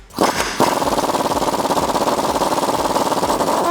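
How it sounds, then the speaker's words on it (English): A 21mm socket on an impact tool drives out a track bar bolt on a Jeep Wrangler JK axle, a loud, steady rapid hammering that runs continuously after a short start and stop. "I'm gonna take a 21mm socket and remove this bolt."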